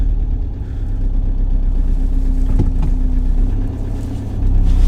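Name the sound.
Ford Transit Custom van engine idling with clutch pressed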